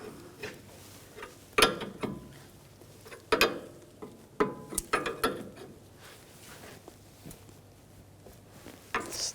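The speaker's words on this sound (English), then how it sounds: "Tighten up the jam nut, and you want to snug that up." A ratchet snugging the jam nut on a Volkswagen Jetta's front steering tie rod, giving scattered sharp clicks and short bursts of ratcheting, fairly quiet and close with pauses between strokes.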